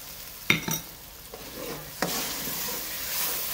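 Yogurt added and stirred into a dhaba-style desi chicken curry, a sharp clink of a spoon and scraping strokes followed by a rising steady sizzle from the pan, close up, no speech.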